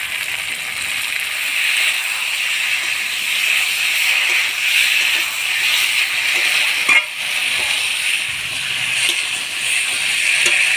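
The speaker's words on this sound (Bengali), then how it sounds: "বেগুন, টমেটো, আলু মশলার সাথে ভালো করে কষাই নিলাম" Steady sizzle and hiss of eggplant, tomato and potato sautéing with spices in a pan for a Bengali fish curry, continuous and close, with a brief clink partway through.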